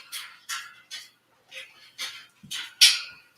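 A puppy in her playpen gnaws on a chew toy, giving a steady run of crisp, close crunching bursts about every half-second, with one louder bite near the end.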